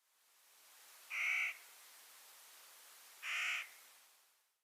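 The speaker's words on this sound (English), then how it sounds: "We hear the hoarse calls of a single Clark's nutcracker in the distance." Two hoarse, harsh calls from a single Clark's nutcracker, distant and faint, spaced about two seconds apart on a foggy mountain ridge with quiet air between.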